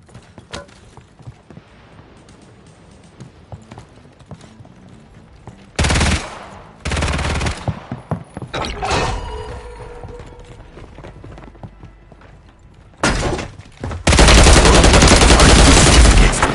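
Gunfire in the battle royale game Warzone, with bursts of automatic fire around 6–7 seconds and again from 13 seconds, loud and dense, separated by quieter stretches of ambient game sound and rustle.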